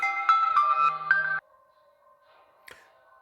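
A phone ringtone sounds for an incoming spam call, a bright electronic melody of several quick notes lasting over a second before cutting off abruptly, followed by near silence and a faint short blip.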